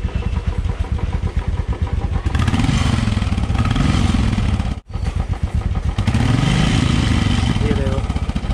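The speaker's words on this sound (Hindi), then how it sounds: "बीच में से दोनों में एक साथ देना।" Two Royal Enfield Classic 350 motorcycles, an old Classic and a new Reborn model, rev together from close range, their loud thumping engines sustained with throttle swells, a brief dip near the middle, and a voice talking over them.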